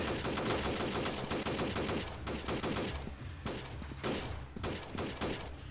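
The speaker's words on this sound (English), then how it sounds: "What the hell are you guys shooting at?" Sustained automatic gunfire in a guerrilla-warfare video game, rapid rattling bursts of machine-gun fire packed together at first, then thinning into separate volleys and single sharp shots, loud and with no voices.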